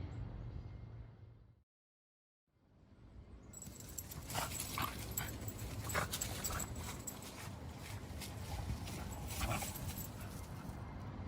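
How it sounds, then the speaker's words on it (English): Several dogs play outdoors in a yard where a tree was removed. Yips, whimpers and scuffling come and go over a steady noisy outdoor background after a brief dropout in the sound, at moderate distance with no talk. "Now we have dogs that are playing"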